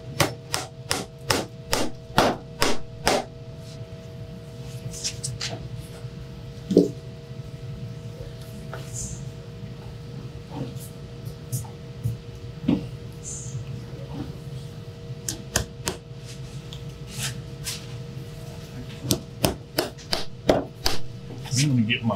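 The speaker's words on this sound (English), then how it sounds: "now I'm going to nail these two down tight, right back where they were" Hammer strikes driving nails into a western saddle under construction, a run of sharp repeated taps in bursts, close and fairly loud over a steady background hum, with a few pauses between groups of blows.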